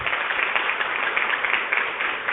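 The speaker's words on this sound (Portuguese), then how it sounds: "Então, uma salva de palmas para o Dr. Albert." Audience applause closing a lecture on workplace harassment, a steady wash of many hands clapping at moderate level with no talk over it, sounding slightly muffled.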